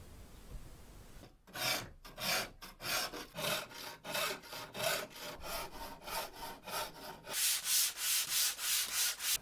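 Hand-carving the facets of a modern C-profile guitar neck with a rasp or file, heard as a close, steady run of rhythmic rasping strokes, about two per second, with no talk.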